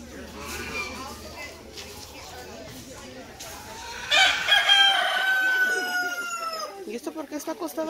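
A prize-winning rooster crows loudly and close by, a long drawn-out call starting partway through, followed by clucking, with a person talking in the background.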